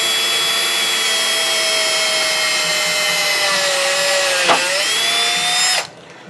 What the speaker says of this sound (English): just drill right through it and drill through the back